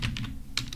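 A computer keyboard is typed on in a few quick, crisp key clicks, close and clear with a short pause between bursts.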